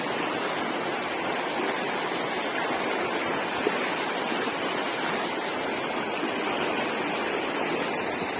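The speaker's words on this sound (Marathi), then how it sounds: "नाला आहे ते पूर्ण टच भरून झालेला आहे." An overflowing stream swollen to the brim floods across soybean fields and a farm track, producing a dense, unbroken roar of rushing water, loud and close with no other sounds.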